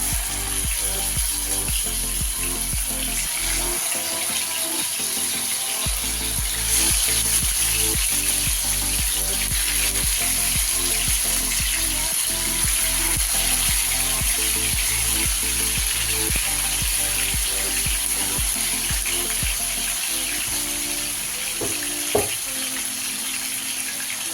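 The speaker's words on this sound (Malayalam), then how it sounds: "എണ്ണ ചൂടായി നമുക്ക് ചിക്കൻ ഇട്ട് കൊടുക്കാം." Steady, loud sizzling of chicken frying in hot oil for Kerala-style chicken biryani, with a continuous crackle and occasional clinks, no voices.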